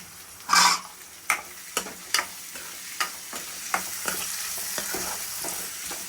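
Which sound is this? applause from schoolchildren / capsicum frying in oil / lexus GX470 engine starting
capsicum frying in oil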